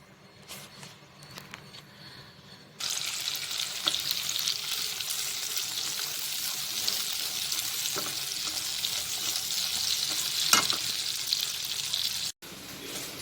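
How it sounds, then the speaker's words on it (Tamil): Okra sautéing in hot groundnut oil in a kadai, a steady loud sizzle and crackle that starts abruptly after a quieter moment and holds evenly, with faint stirring scrapes. "எண்ணெய் காஞ்சதும் இப்போ நான் வச்சுருக்கிற வெண்டைக்காயை நம்ம போட்டு நம்ம இப்போ வதக்கிக்கலாம்"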